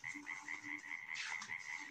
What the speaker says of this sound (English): Frog hopped away gloomily.